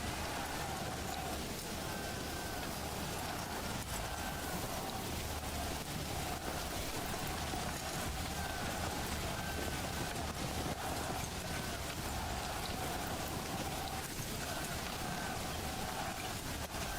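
Steady rain falling in the Manor Lords video game, a constant even hiss that holds at the same level from start to finish with no voices over it.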